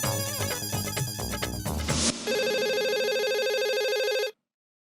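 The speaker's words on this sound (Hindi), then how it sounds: "अभी इस वक्त मैरिज ब्यूरो में फोन करता हूँ और अप्सरा जी से बात करता हूँ।" A telephone rings out with a steady, continuous electronic tone that cuts off abruptly, coming right after a burst of busy background music in a comedy sitcom scene.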